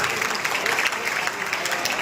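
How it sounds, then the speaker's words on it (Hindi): A crowd at a welcome event applauds performing children, brisk sustained clapping at moderate loudness, even and unbroken from start to finish. "एक बार जोरदार तालियां इनके लिए।"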